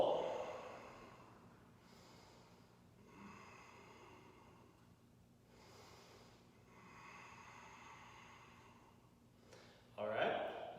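Slow, deep breathing during a martial-arts posture workout, about three long, airy breaths close to the microphone, each rising and fading gently, followed by a brief voice at the end.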